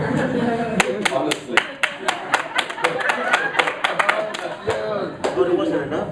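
A small panel audience claps in sparse, uneven bursts, individual sharp claps standing out rather than a dense roar, while a voice talks intermittently over them.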